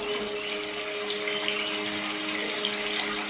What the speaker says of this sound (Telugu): అండ్ దెన్ కూల్ వాటర్ పోయాలి,